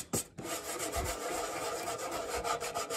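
A metal tin being scratched and scuffed all over to distress it, giving steady rasping, filing-like strokes that run continuously and close up, with no talking.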